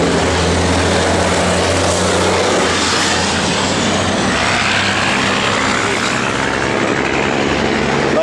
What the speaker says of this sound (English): Let those loud trucks go by